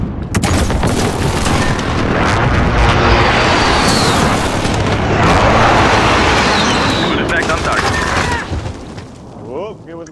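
Heavy airstrike explosions in a first-person shooter game, a dense sustained barrage of booms and blasts rolling for several seconds before tapering off, with radio-style voices underneath.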